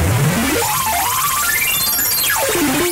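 An extreme synth arpeggio from Camel Audio Alchemy races through rapid stepped notes that sweep from low to high and back down, loud and dense, with no talk.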